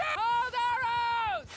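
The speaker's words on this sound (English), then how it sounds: "you can scream really loud." A Mount & Blade II Bannerlord character lets out a long, loud sustained scream, a single held high yell lasting over a second with a short dip midway, amid faint battle noise.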